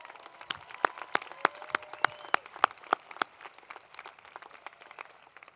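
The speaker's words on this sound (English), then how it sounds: "Let's give them a big round of applause." Scattered applause from a commencement audience honoring university staff, a thin spread of individual claps with several sharp, distinct hand strikes that fades out.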